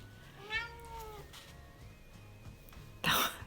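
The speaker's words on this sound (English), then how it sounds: "That was the cat." One drawn-out cat meow nearby, then quiet, ending with a short, rough, noisy burst.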